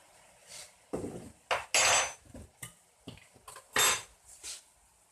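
A spoon stirs wax gourd sauce in a pot with soy sauce. Separate clinks and scrapes of metal against the pot come in irregular bursts, loud and close, with quiet gaps between them.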